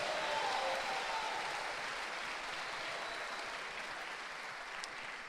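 Applause from a church audience at a finance conference, a broad wash of clapping that starts strong and slowly fades across about five seconds, heard from within the hall.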